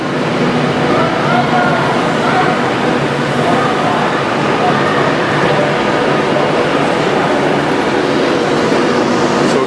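Pendolino train interior, with a steady loud rumble and rush of the moving carriage continuing throughout, wheels and rail noise blending into a constant broadband roar.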